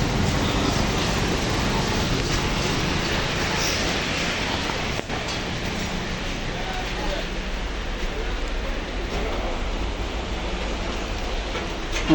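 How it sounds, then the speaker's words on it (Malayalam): Heavy rain pours down at night as a dense, steady, loud roar that stays nearly constant throughout. "ഭയങ്കര മഴയാണ്,"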